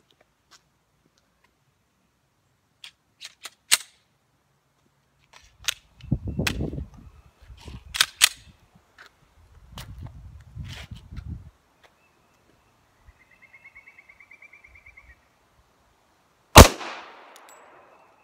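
Gunshots fired at a target about 10 yards away: a few sharp isolated cracks early, then scattered clusters of impacts and rattles, and one loud final shot ringing out near the end, with quiet gaps between.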